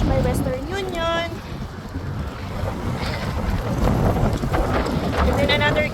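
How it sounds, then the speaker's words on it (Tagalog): Strong wind buffeting a microphone outdoors beside a street, a constant heavy rush with a few faint whistling tones, with a voice heard over it at moments. "Grabe, super hangin."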